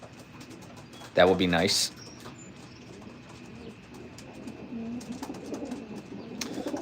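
Racing pigeons in a loft on a rainy, muggy day, a loud nearby burst of fluttering or cooing lasting under a second, then soft cooing and rustling under quiet background noise and a brief spoken remark.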